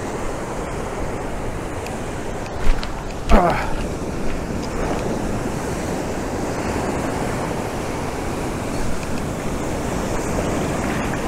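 Mediterranean sea waves washing around a hiker wading in the shallows, a steady broad surf wash with wind buffeting the microphone and a few louder splashes near the start.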